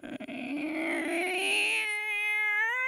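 A person imitates a cat's meow with a drawn-out, rising and falling nasal wail, close and loud, ending on a steady held tone.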